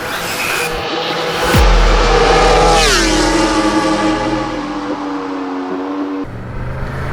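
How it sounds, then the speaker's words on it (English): A 2020 Yamaha MT-10 super naked motorcycle engine revs hard on a road test ride, rising sharply to a loud, close roar, then the pitch drops and settles into a steady lower drone as it pulls away. "to test ride the Yamaha MT-10"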